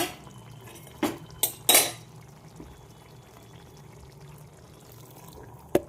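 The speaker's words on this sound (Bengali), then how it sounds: "একটু গরম জল দেবো" Hot water being poured into a pan of mixed vegetable curry, with a few quick splashing pours and clinks of a pot and utensil, close by and fairly quiet, no talking.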